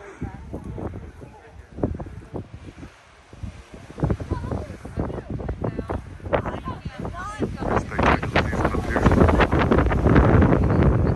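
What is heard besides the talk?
strong wind on mountain clifftop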